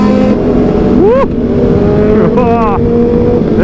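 Several liter-class superbikes, among them a Ducati Panigale 956, a Triumph and a Kawasaki, rev loudly in traffic, with two sharp rising throttle blips cutting through a steady engine roar.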